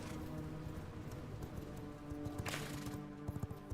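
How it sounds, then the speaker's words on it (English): A horse in the vampire survival game V Rising trots with clip-clopping hooves, and the steps grow sharper and more distinct toward the end over a murky background with a short whoosh in the middle. "Let's get this horse out of here."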